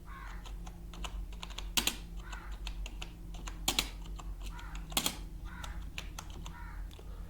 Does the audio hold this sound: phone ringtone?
no